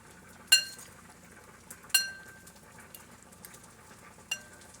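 A utensil stirring seasoning into shrimp fettuccine sauce in a pan, a few sharp metallic clinks against the pan over soft scraping and light sizzling, close and fairly quiet.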